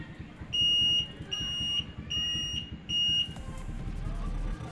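A Wi-Fi alarm and clock circuit built around a 16x2 LCD sounds four evenly spaced high electronic beeps, close and clear over a low background hum.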